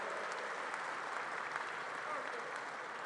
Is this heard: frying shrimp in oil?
no